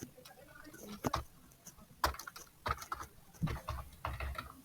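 Close computer keyboard typing code for a React stepper component: quick clusters of crisp keystrokes with short pauses between bursts, no talk.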